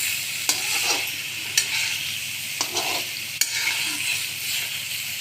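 Spiced potatoes for dum aloo stirred in a hot pan, a steady loud sizzle with periodic spoon scrapes and knocks against the metal.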